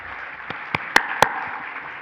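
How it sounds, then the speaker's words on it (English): A few sparse, sharp claps ring out in a small hall after an award presentation for Dr. Ismene Petrakis, isolated hand strikes rather than a full ovation, fairly faint with no talking. "a round of applause"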